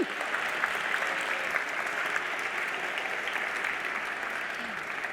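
An audience applauds Sergio at a talk on videogames and the cultural industry, a continuous, moderately distant patter of many hands clapping throughout.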